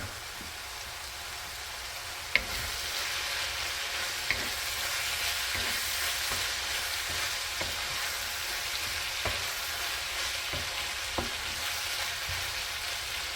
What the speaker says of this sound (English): So now I'm going to add my potatoes because the ground beef is all the way cooked through